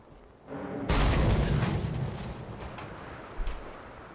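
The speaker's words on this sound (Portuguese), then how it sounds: "Eu tomei uma explosão no meio da cabeça" A loud in-game explosion in Mad Max erupts as a deep booming burst that rumbles and fades over a few seconds, followed by a smaller pop near the end.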